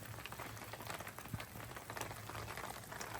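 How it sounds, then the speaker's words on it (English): Faint, steady patter of rain tapping on a taut tarp at a truck campsite, dense irregular drops with no voices. "it is the next morning, and it's raining."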